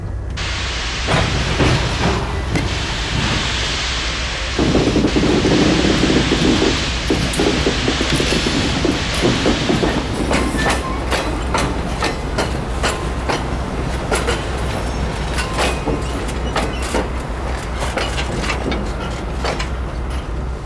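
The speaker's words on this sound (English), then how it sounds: "This train was due out 45 minutes ago. Get it out of here." A train on the San Juan Branch Line rolls along the rails, a loud, continuous rumble with steady clickety-clack wheel beats and occasional metallic squeal, close by.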